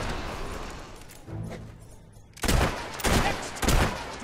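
Gunfire in the Xbox 360 game Fable 3: several loud, sharp gunshot blasts in quick succession, the first after a quieter stretch, then two or three more booming reports, close and punchy, with no talking.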